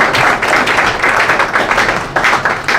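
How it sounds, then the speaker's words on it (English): Dense, steady applause from a crowd, a continuous wash of clapping with slight swells, fairly loud and with no talking over it. "Let's give our panelists a round of applause."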